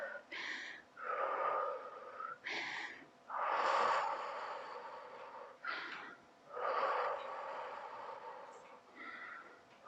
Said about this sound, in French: Et on souffle.